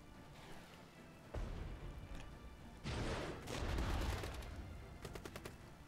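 Gunfire in a Cold War tank battle game: bursts of rapid automatic fire and heavy cracking shots, loud and close, with rattling clusters near the end and no talking.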